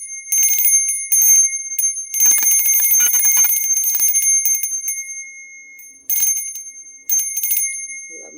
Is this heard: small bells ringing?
yes